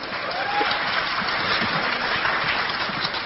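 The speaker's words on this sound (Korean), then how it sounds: "뭐 그런 걸 박수치고 그러세요" A lecture audience applauds with a steady, dense patter of clapping through the whole stretch, moderately close, with faint murmurs underneath.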